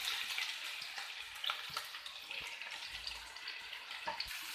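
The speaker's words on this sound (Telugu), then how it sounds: "ఇప్పుడు బాగా ఫ్రై చేయాలి వెజిటేబుల్స్ తురుము అంతా." Grated vegetables fry in a pan with mustard seeds for veg fried rice, giving a soft, continuous hiss. Faint scraping and clinking stir strokes come through it, and no one speaks.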